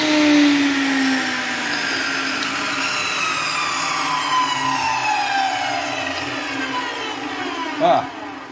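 A woodworking machine cutting pieces for small multi-sided boxes at 45 degrees, a loud steady motor whine with a descending tone as the blade slows, and a brief clunk near the end.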